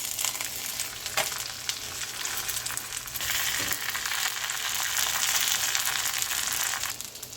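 A folded cheese omelette frying in a pan on a low stove gives a steady, close sizzle that swells slightly louder toward the end, with faint scraping touches and no talk.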